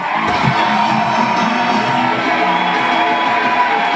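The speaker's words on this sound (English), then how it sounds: "Give yourselves a huge round of applause!" An open mic crowd whoops, yells and cheers loudly and continuously, close and energetic throughout.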